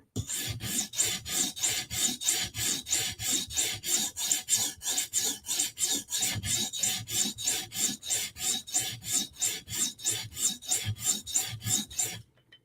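Steady, rhythmic rasping strokes of a Chris Reeve Sebenza Tanto blade drawn across a sharpening stone, about two to three strokes per second, close and evenly loud, with no talking.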